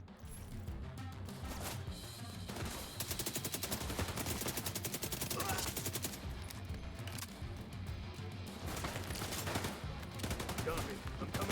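SMG fire in The Division 2 crackles in long rapid bursts with short gaps, dense and continuous over several seconds, fairly faint in the mix, with voices heard at times.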